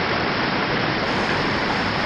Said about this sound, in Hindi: वाटरफॉल काफ़ी तेज़ गति से